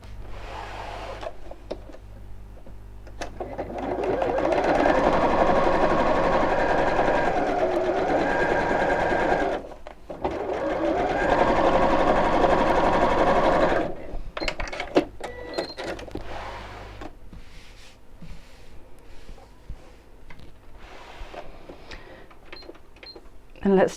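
A sewing machine top stitches around the curved edge of a fabric pot holder, running in two steady bursts of several seconds each, then a pause and lighter handling noises, with speech faintly present.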